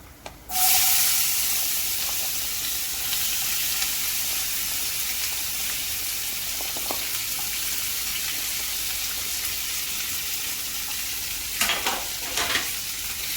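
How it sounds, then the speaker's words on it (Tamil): A steady, loud sizzle of onions frying in a tawa with fennel seeds and cashews, stirred now and then with a few scraping clinks near the end, no voices. "வெங்காயத்தை கலந்து வதக்கி கொண்டே இருங்க"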